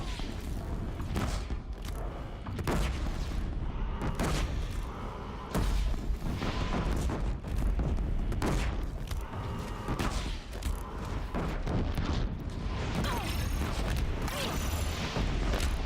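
Explosives going off in Horizon Zero Dawn, a chaotic run of repeated booms and blasts mixed with clanking, creaking mechanical noise, dense and loud across the whole stretch.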